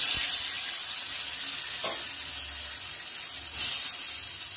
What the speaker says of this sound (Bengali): আগে থেকে ধুয়ে রাখা গোবিন্দভোগ চালটা সেটা দিয়ে একটু ভেজে নেব